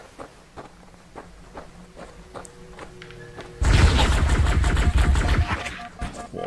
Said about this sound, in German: was war das für ein Schuss?